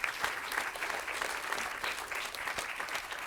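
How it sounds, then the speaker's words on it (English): Audience applause at a public impact day event for the people on stage, a steady wash of clapping sustained throughout at moderate distance with no talk over it. "please give a round of applause for everybody that is on the stage right now"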